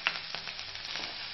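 Finely chopped onion hits hot mustard oil with cumin seeds, a loud burst of close, continuous sizzling that holds steady for about a second.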